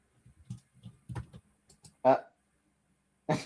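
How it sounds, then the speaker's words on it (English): Light clicking of computer keyboard keys in short scattered bursts, faint and close, mixed with soft speech in an online game chat. "I heard her typing."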